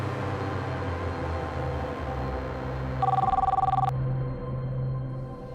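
A telephone rings once with a short electronic trilling burst over a low steady indoor hum, fairly close and with no voices.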